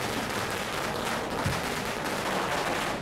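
Strings of firecrackers burst at an outdoor party celebration of Karunanidhi's 94th birthday in Valparai, Coimbatore district, making a dense, continuous crackling roar that stays loud and unbroken throughout.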